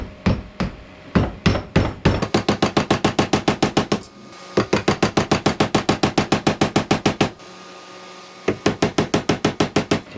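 Rapid metallic hammer blows in quick bursts on a screwdriver prying out a leaking front axle seal on a Kubota BX tractor, dozens of sharp strikes in steady rhythm with brief pauses between runs, close and loud.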